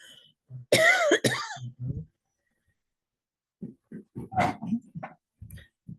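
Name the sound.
coughing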